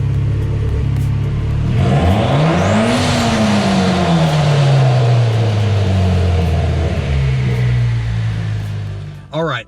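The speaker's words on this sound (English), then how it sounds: "wind the adjustment screw in the plus direction 1 turn at a time until the engine returns smoothly to idle after revving" Mitsubishi Evo X engine revs up loudly, with the pitch rising sharply and then falling away as a GFB blow-off valve vents a hiss, close and continuous.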